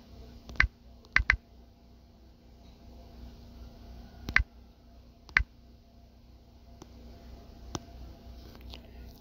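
Scattered keystrokes on a computer keyboard as the word efficient is typed: a handful of sharp, close clicks, some in quick pairs, separated by quiet gaps over a faint steady background hum.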